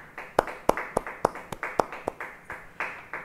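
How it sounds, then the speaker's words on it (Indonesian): A small church congregation at a Bible study claps in sparse, uneven bursts, with about a dozen sharp, distinct handclaps close by against a quiet room. "Yang mau beri tepuk tangan bagi dia"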